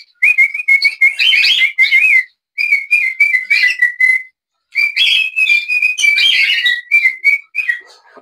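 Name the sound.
tame pet bird whistling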